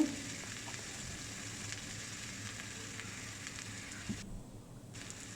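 Onion, garlic and green chili frying in mustard oil in a pan, a steady close sizzle and crackle running throughout, loud and continuous with no talking.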